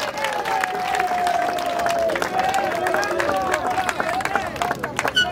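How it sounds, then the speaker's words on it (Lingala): Audience applause breaks out at a political meeting in Congo, sustained clapping mixed with crowd voices and a few cheers, loud and near, with a voice carrying on above the din. "sous nos applaudissements topeti maboko"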